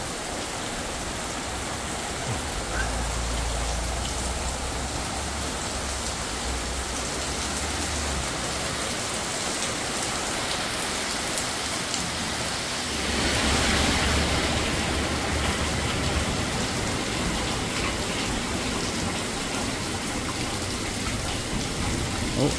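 Heavy downpour outdoors, a dense continuous hiss of rain pounding surfaces throughout, swelling a little louder partway through, with a low rumble in places.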